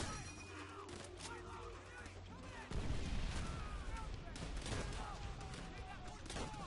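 Gunfire in the video game Call of Duty: World at War: rapid bursts of rifle and machine-gun shots crackle over a low rumble, getting denser and louder partway through, with battle noise throughout.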